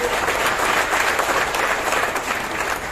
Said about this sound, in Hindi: मैं चाहूंगा उनके लिए जोरदार तालियां मार दीजिए